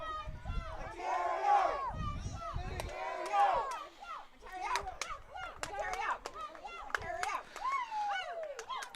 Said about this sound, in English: they're trying to go up-tempo with the cheering here